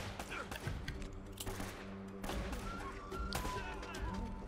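Shotgun blasts in Uncharted: Drake's Fortune, several loud broadband bursts at irregular intervals amid game noise and ongoing talk.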